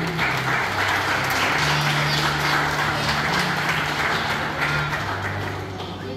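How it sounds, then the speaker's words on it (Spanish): A ceremony crowd applauds steadily as a teacher takes her seat at a head table, a loud, continuous wash of clapping for several seconds with a low tonal hum running underneath. "para quien pedimos un fuerte aplauso"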